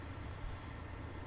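A train in Train Sim World 3 running past a station, a steady low rumble with a thin high whine, continuous and fairly quiet.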